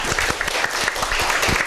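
A lecture class applauds together at the start of a Korean history session, steady dense clapping filling the room with no voices over it.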